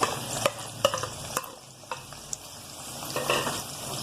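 Onions fry in about three spoons of oil in a kadai, a steady close sizzle broken by repeated scraping stirs of a spoon against the pan.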